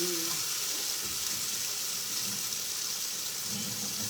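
Lone eggplant slice frying in hot cooking oil, a steady loud sizzle filling the whole stretch without pause and with no talking over it.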